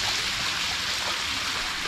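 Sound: water flowing at Ghagra waterfall

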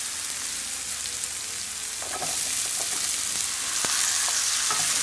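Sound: onions and potatoes frying and being stirred in a pan

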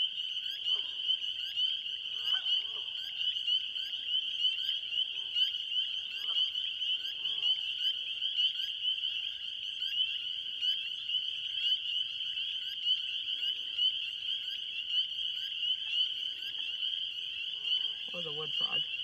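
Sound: frogs croaking at night in a marsh

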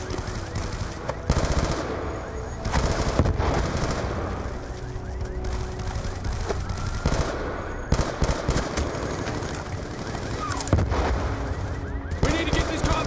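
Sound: rifle gunfire in the video game Call of Duty: Black Ops 2

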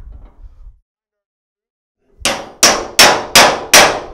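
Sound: hammering MAC RBRT socket extractor onto stuck bolt

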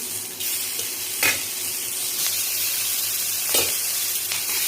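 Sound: salted slit green chillies roasting in oil on hot griddle

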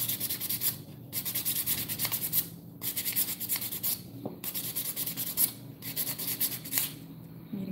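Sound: sanding the edge of a tin can

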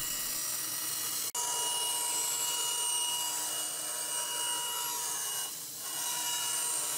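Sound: bandsaw cutting out wooden push block pieces

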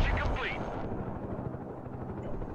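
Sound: helicopter trying to land in the video game Broken Arrow

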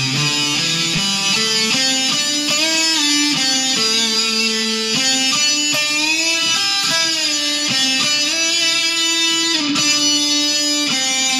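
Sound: guitar solo of a song, octave below

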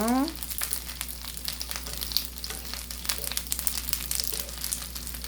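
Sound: fish skin frying in hot pan

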